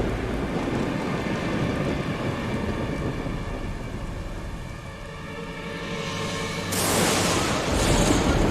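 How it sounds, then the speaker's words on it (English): Thunderstorm in a cartoon about a raging storm flooding Vrindavan: loud, continuous rain-like roar with low rumbling thunder, swelling into a brighter crashing burst near the end, with no talk. "This storm must not cease until Vrindavan is completely submerged."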